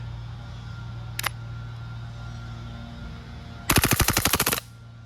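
A GHM9 airsoft gas blowback pistol fires one short shot, then a rapid full-auto burst of about a dozen loud, close, evenly spaced cracks that stops abruptly.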